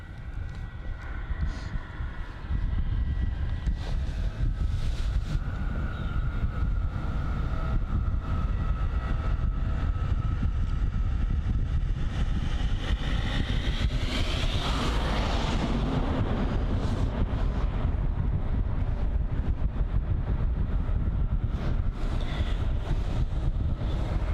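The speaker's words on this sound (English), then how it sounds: "The engines that I can hear are on this Jet 2 737-800." Jet engines of a Jet2 Boeing 737-800 at Bristol Airport, a loud continuous roar with a rising whine that swells midway and stays strong throughout, heard from nearby outdoors with no voices.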